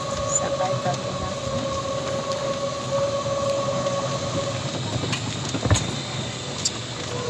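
A passenger train in Doha rolls along with a steady low rumble and a faint sustained hum, heard from inside the carriage, with a short clunk near the end and no talking.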